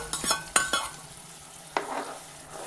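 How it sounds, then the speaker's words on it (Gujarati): Chili paste goes into tomatoes cooking for a sweet corn curry, and a utensil knocks against the pan a few times, sharp and close, before a quieter sizzle and a single later clack. No one speaks. "હવે આપણે મરચુંને તેમાં નાખી દઈએ"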